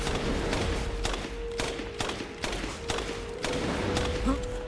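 Rapid bursts of gunfire crack out in a repeated series of sharp shots in the video game Resident Evil Village, with a steady tone and game noise running underneath.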